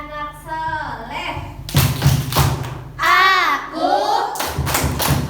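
Children clap in rhythm along to the Tepuk anak soleh chant at a school orientation, sharp hand claps and thumps landing between sung and spoken phrases from young voices.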